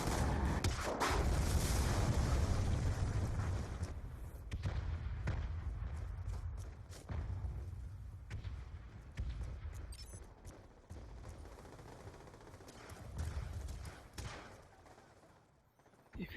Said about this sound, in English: Kinetic strike initiated!